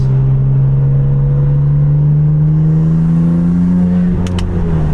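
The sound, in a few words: BMW F80 M3 with titanium intakes driving, windows cracked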